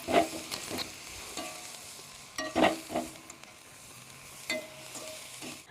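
Jackfruit thoran being gently stirred in a pan, quiet bursts of scraping and clinking from a spoon against the pan over a faint sizzle, close by, with pauses between strokes and no speech.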